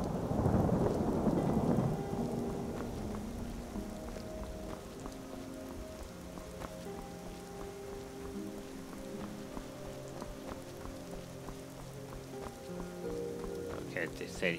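Rain falls steadily in Skyrim, a constant close patter with a louder rumble of thunder at the start that settles into a soft drizzle while faint music plays underneath.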